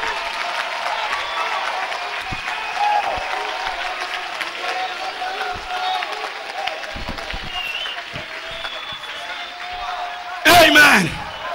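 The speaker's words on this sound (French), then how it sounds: "applaudissez pour le Seigneur." A church congregation applauds and cheers during a service, steady clapping with shouts and sung or called-out voices over it, capped by a sharp loud burst near the end.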